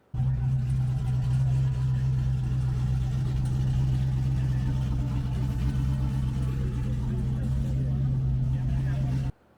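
Truck engine idling outdoors at the SEMA Show, a loud, steady deep rumble with a strong low throb that holds evenly for about nine seconds, then cuts off abruptly.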